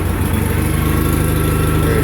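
A small engine on property with a John Deere spreader, carburetor needing work, running at a steady, loud idle with an even rapid throb, close by and alone, no voices over it.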